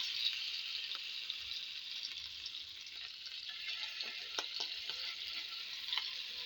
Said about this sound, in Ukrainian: І жаримо до золотистої корочки